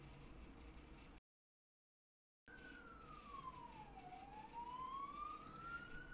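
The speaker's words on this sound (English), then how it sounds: "And that's an ambulance going past." An ambulance siren passes in the distance, its tone wailing down and then back up over steady background hum, after a brief silent gap.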